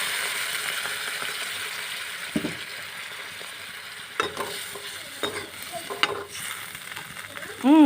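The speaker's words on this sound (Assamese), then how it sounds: "মাছখিনি ভালদৰে ফ্ৰাই হৈ আছে" Fish frying in a pan that had a little water added for a curry, a steady close sizzle with occasional spatula stirs and scrapes, and no voices.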